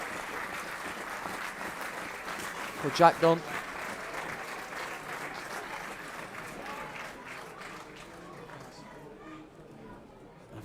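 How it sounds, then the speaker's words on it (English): Football supporters from both sides of the crowd at an FA Trophy match, Marine vs Scarborough Athletic, applaud together in a sustained, distant clatter of clapping, with a commentator talking over it. "Fans from both sets of supporters joining together in applause"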